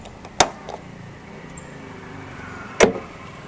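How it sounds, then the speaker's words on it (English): A car's gas tank cap is closed and then its fuel-filler cover is shut, giving two short, sharp clicks a couple of seconds apart, with quiet ambient noise in between. "ibalik na lang natin itong takip, tapos isarado natin yung cover ng gas tank"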